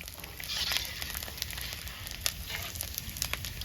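Steady oil sizzling and crackling of edible gum frying, with scattered pops and hiss throughout, fairly quiet and close.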